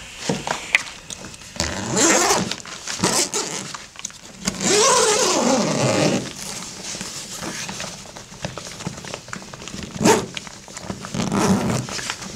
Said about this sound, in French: on va pouvoir ouvrir la fermeture éclair